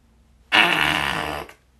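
One long, loud, buzzing fart sound effect, close and alone, lasting about a second in a children's read-aloud story, ending abruptly.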